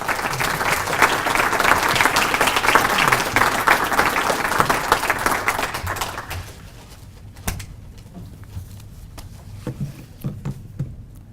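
An audience applauds to welcome speaker Ed Zimmer at a talk on the black-and-white artist John Johnson. The clapping is loud and full for about six seconds, then thins out to scattered claps and small room noises.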